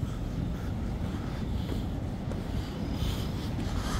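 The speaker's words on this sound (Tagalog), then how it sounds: "Laki ng alon no." Big sea waves roll and churn under heavy wind buffeting the microphone, a constant low roaring rumble with no pauses, loud and close throughout.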